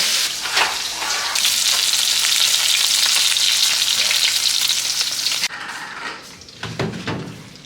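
Steak frying loudly in a pan on a stove, a dense steady sizzle that cuts off sharply near the end, leaving quieter clatter and faint kitchen sounds.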